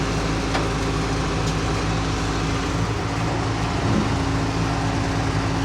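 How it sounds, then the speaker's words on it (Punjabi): Tractor engine labouring under heavy load while pulling a vehicle stuck in soft mud beside a dirt field embankment, a loud, steady low drone with constant rumble and no pauses. "ਦੇਖਦੇ ਆਪਾਂ ਅੱਗੇ ਟਰੈਕਟਰ ਵੀ ਪਾਇਆ ਹੋਇਆ ਉਹ ਦੇਖ ਲਓ ਔਖਾ ਕੰਮ"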